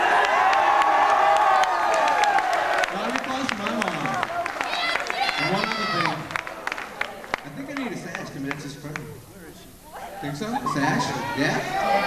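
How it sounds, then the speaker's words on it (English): A crowd cheers and claps at a school Mr. and Miss contest, with people talking over the noise. The cheers swell in bursts and then fade. "Round of applause for my mom."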